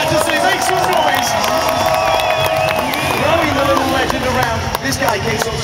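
A large crowd at the Red Bull X-Fighters freestyle motocross event in London roars and cheers in a steady, loud wash of noise, while an announcer's amplified voice carries over the top.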